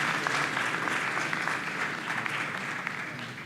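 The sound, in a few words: audience applause at conference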